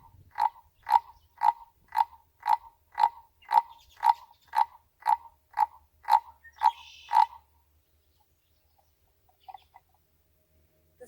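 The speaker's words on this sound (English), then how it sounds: "the Couch's spadefoot toad lives in the desert" A Couch's spadefoot toad calls in the desert: about a dozen short, bleating croaks repeat at a steady rhythm, loud and close, then stop, leaving near silence with one faint call later.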